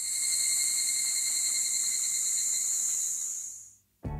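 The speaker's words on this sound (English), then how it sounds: "That's the cicadas that are so goddamn loud now." A loud, continuous high-pitched insect drone from cicadas fills the air, then cuts off abruptly near the end before a brief burst of noise.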